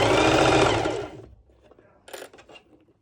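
A sewing machine stitching fabric on a ruched underwire top, a loud close whirring run for about a second that winds down, followed by faint mechanical clicks and handling.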